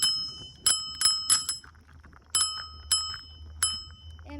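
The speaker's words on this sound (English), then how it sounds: "Love the bell on this. And it comes custom built to it." A Segway Ninebot Max G30P scooter's built-in bell rings close by in bright, metallic dings, about seven strikes in uneven pairs and singles, each ringing out briefly over a low hum.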